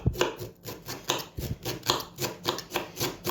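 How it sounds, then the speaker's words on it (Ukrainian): A knife shreds cabbage into small strips on a board in rapid, steady chopping. The cuts land roughly three to four per second in an even rhythm, close up and distinct. "Отак буду шаткувати капусту"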